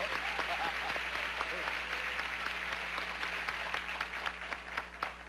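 Steady applause from a large television game show studio audience on Tic Tac Dough, many hands clapping densely and continuously throughout, with a faint hum underneath.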